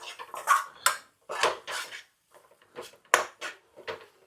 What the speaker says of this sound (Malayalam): ഫുള്ളായിട്ട് കൊട്ടി കൊടുത്ത ശേഷം നന്നായിട്ടൊന്ന് ഇളക്കുക, മിക്സ് ആക്കുക.